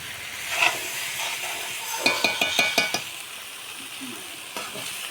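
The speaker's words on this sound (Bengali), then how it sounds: "ডালের বড়াগুলো দিয়ে ভালো করে নেড়ে চেড়ে নেবে।" Lentil fritters sizzle in a pan while being stirred, a steady frying hiss with a quick run of sharp scraping strokes in the middle, close and clear.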